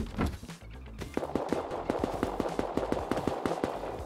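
Rapid automatic gunfire sprays in the survival video game Rust, a fast, regular stream of sharp shots continuing for several seconds at close range with no talking.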